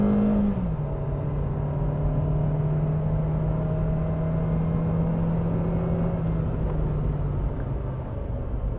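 A Daihatsu Sigra car accelerating, a steady engine drone rising slowly in pitch with road and wind rumble, heard from inside the cabin with no talk.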